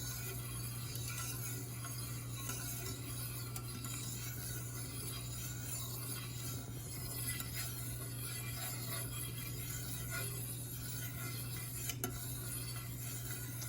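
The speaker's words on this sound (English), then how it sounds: "You'll just take your whisk and mix all this together." A whisk stirs ingredients for apple cider vinegar gummies in a pan taken off the heat, giving a quiet, continuous scraping and clinking of metal against the pan over a steady low hum, with no talking.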